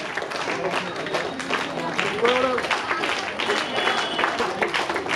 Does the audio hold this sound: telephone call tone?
no